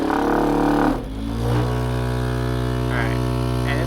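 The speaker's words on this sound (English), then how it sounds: "this is about as fast as the motor can go" Electric motor of a vibratory apparatus running close to its top speed, a loud steady hum rich in tones that dips briefly near the start, then holds constant with no talk over it.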